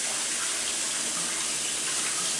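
Cauliflower is washed under a running kitchen tap. The water gushes loud and steady throughout, with no talking.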